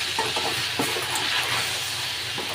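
Chicken pieces sizzle and fry in a pan as they are stirred with green chillies while the water cooks off, giving a steady loud hiss broken by scattered scraping clicks from the spoon.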